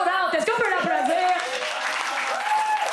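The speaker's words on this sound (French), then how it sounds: "Est-ce qu'on peut l'applaudir?" Applause from the audience at a French-language improv comedy show, steady clapping that fills the room under an excited voice talking over it.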